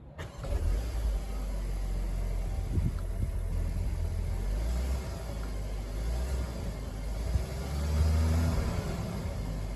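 A Skoda Octavia vRS engine starts and settles into a steady, low idle, a continuous close hum with a slight rise near the end.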